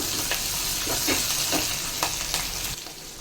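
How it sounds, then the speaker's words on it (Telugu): Green chillies, ginger and curry leaves hiss and crackle in hot tempering oil for a beetroot upma, a loud, dense sizzle with a few sharp pops and stirring scrapes, easing slightly at the end. "పచ్చిమిర్చి, అల్లం, కరివేపాకు వేసి ఒకసారి వేసుకుందాం."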